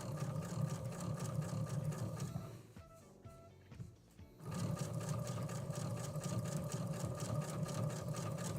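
Sewing machine stitching through layers of a t-shirt table runner with a walking foot, a steady loud whirring drone that stops for about a second and a half mid-clip before resuming at full speed.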